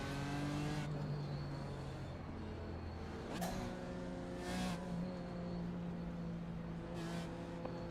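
Race cars circle on the pace lap, a BMW M4 GT4 among them, their engines droning steadily at moderate distance, with a few brief revs and passing swells over a continuous low hum.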